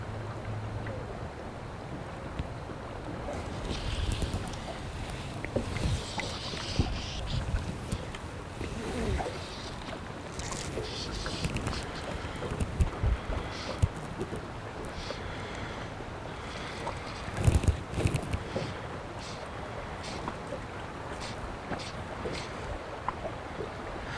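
Steady outdoor wind buffets the microphone while fishing in cloudy weather, with a few louder gusts and light water or boat sounds underneath.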